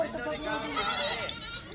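Goats on a goat farm in Dera Ghazi Khan bleat in wavering, close cries while someone talks over them throughout.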